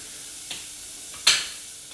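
Onions, garlic and carrots soften in a hot pan, a steady sizzle of frying vegetables with a couple of brief stirring scrapes, one louder than the rest, close up and with no voices.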